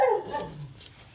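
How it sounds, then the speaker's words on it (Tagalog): A dog barks once, loud and close, followed by a softer yip, then quiet in an indoor setting where tile grout work is underway. "habang tumatahol yung aso"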